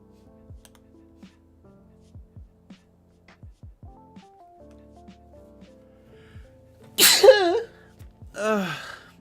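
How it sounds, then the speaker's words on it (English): After a stretch of quiet keyboard clicks and faint tones, one loud close sneeze bursts out, followed by a shorter breathy vocal sound. "I got a sneeze coming on."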